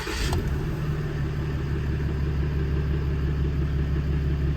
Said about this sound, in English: All right, let's start the engine.